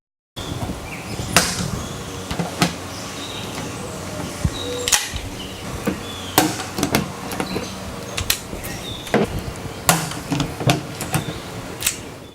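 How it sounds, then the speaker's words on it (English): A hand pop riveter fastening fabric to wood for a bean bag toss game, giving a run of sharp, close snapping pops at irregular intervals over a low background hum. "when it comes off, it'll make a pop sound, which is the reason why they're also called pop riveters"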